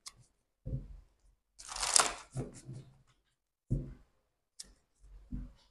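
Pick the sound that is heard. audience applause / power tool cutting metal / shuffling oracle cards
shuffling oracle cards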